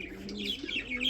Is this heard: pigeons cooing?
yes